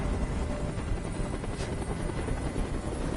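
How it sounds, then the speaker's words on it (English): Steady, continuous helicopter rotor noise from the video game Detroit: Become Human fills the clip, a broad whooshing drone holding at constant loudness as if hovering nearby. "Tell that helicopter to get out of here."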